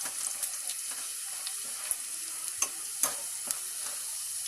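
Whole garam masala spices fry with browned onions in a kadhai, giving a steady soft sizzle with a few sharp pops and crackles scattered through it, fairly quiet and heard alone.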